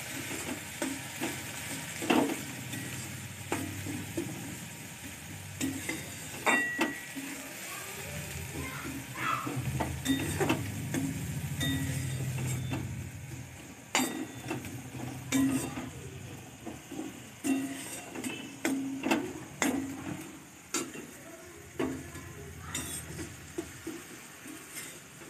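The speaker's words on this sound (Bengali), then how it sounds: "একদম অল্প জল, এই জলটা কিন্তু থাকবে না, এতেই শুধু গুড়টা গালানোর জন্য" Jaggery melting with a splash of water in a pan, a soft ongoing bubbling sizzle under repeated clinks and scrapes of a spoon against the metal, fairly quiet and close.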